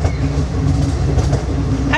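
A train ride with steady rumbling and clattering of wheels on the tracks heard from on board, continuous and fairly close, with voices talking faintly.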